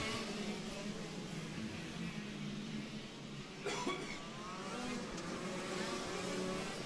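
KZ2 racing karts circling the Lonato circuit during a race, heard as a steady, somewhat distant engine drone with passing revs rising and falling beneath faint commentary.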